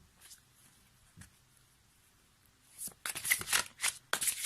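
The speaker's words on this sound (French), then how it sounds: "on va compléter notre tirage avec les licornes magiques de Dorine Virtue" Oracle cards being shuffled for a tarot-style reading, a long quiet stretch with one soft tap, then a loud close run of riffling, fluttering card shuffles near the end.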